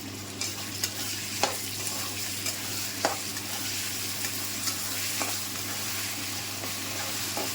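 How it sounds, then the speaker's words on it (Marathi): Ginger-garlic paste sizzles in hot oil with onion and tomato for a dhaba-style dal tadka, a steady close frying hiss broken by several sharp stirring scrapes, with no voices. "आलं लसूण पेस्ट करून घेतली होती ना ती टाकत आहे आणि ह्याला पण मी चांगलं तळून घेणार आहे."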